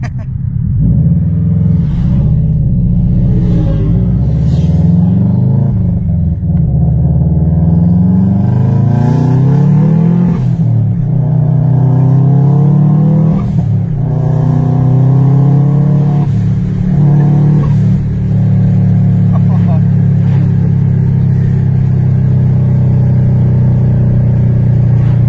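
A Subaru Impreza WRX STI engine heard from inside the car, loud and close, pulling hard through rising revs with brief dips at gear changes, the intake and exhaust note climbing repeatedly over about twenty-five seconds.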